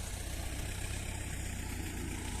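T40 tractor engine idling at low revs, a steady, even diesel thrum close by, fairly quiet and uninterrupted.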